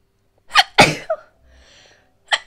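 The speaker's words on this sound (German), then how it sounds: "Tut mir leid, ich musste niesen." Several sneezes, first two in quick succession, a short sharp one after, then a quiet pause with faint background noise before a final sneeze, loud and close.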